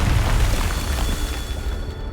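A Confringo spell explosion in the Hogwarts Legacy video game: a loud, deep, rumbling boom that fills the whole moment and lingers as a dense roar without any break.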